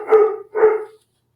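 Pet dogs at home give two loud, close barks in quick succession, each short and sharp, followed by silence.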